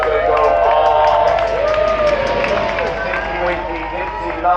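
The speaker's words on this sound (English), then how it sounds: "Give them a big cheer as they go on" A crowd at a boxkart race cheers and shouts loudly and continuously as the karts go by. Many voices overlap with some clapping.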